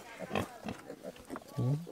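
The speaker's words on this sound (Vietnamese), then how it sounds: "Con lợn này mẹ nó bé này." A piglet and its small mother pig on a farm grunt in a quick irregular series, close by, with a louder low squealing grunt near the end.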